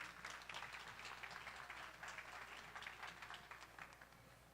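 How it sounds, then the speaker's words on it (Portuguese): An audience at a museum anniversary ceremony applauds a speaker, soft, distant clapping holding steady for a few seconds with no voices over it. "Palmas para ela."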